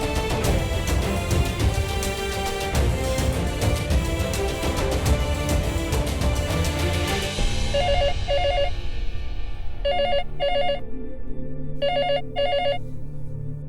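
Landline telephone bell ringing in a home, loud and continuous at first, then settling into repeated paired electronic ring bursts with short gaps, heard alone with no voices.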